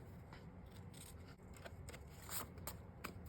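Scissors cut down a sheet of paper for a journal page, giving a quiet run of close snips and crisp paper scrapes, each cut short and sharp, with faint handling rustle between them.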